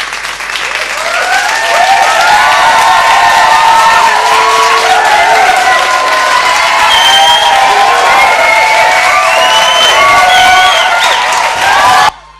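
Large crowd at a Pondicherry anniversary celebration stage show erupting in loud applause, cheering and whoops with shrill whistles, a continuous roar that stops abruptly at the end.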